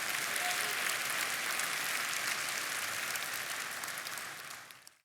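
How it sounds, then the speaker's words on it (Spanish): Sustained applause from an audience, dense and steady, fading out over the last second. "quizás eso merece sin lugar a dudas un aplauso."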